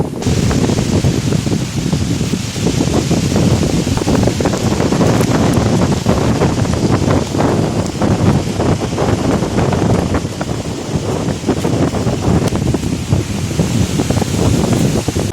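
Loud, constant roar of Cyclone Remal's storm wind and heavy rain, gusting noise battering the microphone with no pauses throughout.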